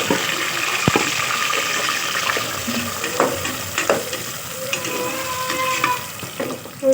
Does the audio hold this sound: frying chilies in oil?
yes